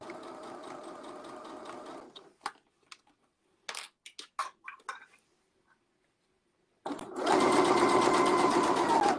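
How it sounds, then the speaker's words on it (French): Close, loud sewing machine runs a straight-stitch topstitching pass around the edge of a fabric comfort-kit bag, with steady whirring bursts at the start and end separated by a pause filled with light handling clicks and taps. "Là je fais un point arrière et là je pique tout le tour."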